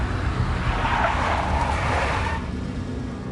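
A big black Mercedes skidding in the video game Max Payne, with a loud, continuous tire-and-engine rush that swells briefly and then eases off, alone without voices.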